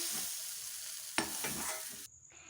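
Ground paste mixed with salt is stirred in a pan, giving a quiet sizzle with a few scraping spoon strokes before the sound drops away near the end.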